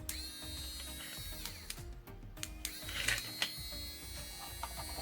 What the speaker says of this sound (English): This mini drill is USB powered. Let's turn on.